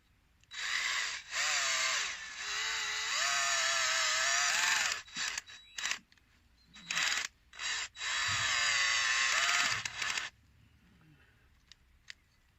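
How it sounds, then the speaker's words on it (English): A power drill with a non-wood bit whirs in long bursts, boring a hole into a birch tree trunk, stopping and starting several times, then falls quiet with a few faint clicks at the end. "So I'm going to go ahead and drill in a hole."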